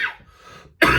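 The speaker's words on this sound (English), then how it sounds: "I'm getting over a cold, so I might be coughing periodically through this video" A single short cough bursts out loudly at the end, preceded by a softer throaty rasp.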